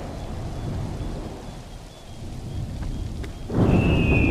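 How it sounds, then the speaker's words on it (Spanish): Rain pours steadily in the Assassin's Creed III video game, a dense hiss with low rumbling thunder, swelling louder near the end, and no speech. "Me empieza a llover, ¿eh?"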